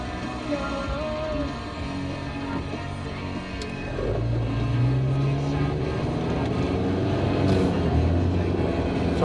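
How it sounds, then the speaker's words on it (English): A vehicle driving fast down a Forest Service road, a steady engine and road rumble with a rising low drone midway, close and continuous with no talk. "driving down that Forest Service road way faster than what I should have"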